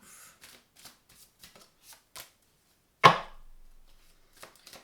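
Tarot cards riffle in a single loud shuffle burst of about a second, trailing into softer card handling, after several faint taps and rustles in an otherwise quiet room.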